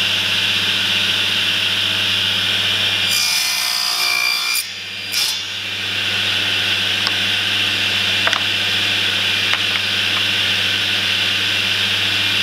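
A drill press hums steadily as it cuts into a wooden tree-branch blank, with a loud grinding burst partway through and a few faint ticks afterward, no talk.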